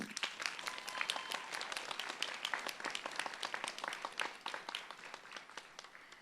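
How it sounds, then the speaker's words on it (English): Graduates at a school graduation ceremony in New Orleans applauding themselves, a steady crowd of many hands clapping throughout, fading slightly toward the end. "So please give yourselves a round of applause."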